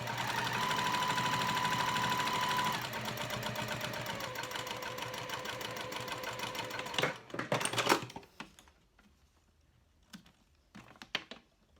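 Sewing machine stitching a wristlet clutch strap, a fast, steady mechanical whirr running continuously and close, then stopping with a few clicks and light handling noises.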